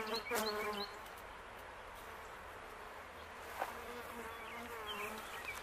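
Honeybees in an open hive buzz in a faint, steady, dense drone, joined by a few brief higher tones and a soft click partway through.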